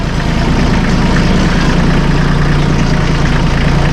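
Massey Ferguson 1M.25 hydrostatic compact tractor, about 24.8 hp, diesel engine idling at low speed: a steady, loud, continuous low rumble with an even mechanical hum and no talk over it.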